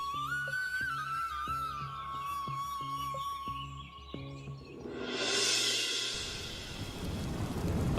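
A cartoon thunderstorm with rain: light melodic music and plucked notes play first, then a loud rushing wash of rain and rumbling storm noise swells in and continues to the end.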